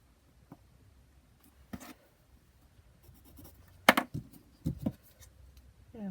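Scissors snip through paper for a junk journal in a few brief, close, crisp cuts with quiet handling sounds between them.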